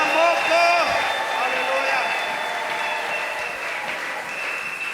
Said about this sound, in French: Est-ce que quelqu'un peut encore acclamer la parole de Dieu?